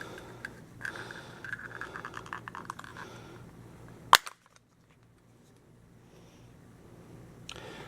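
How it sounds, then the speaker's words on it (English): Grip of a BoomCo TriBlast toy blaster snapping loose: a single sharp, loud plastic crack midway, preceded by faint clicking and handling and followed by near silence and a few soft rustles. "there was a loud snap, but nothing's broken"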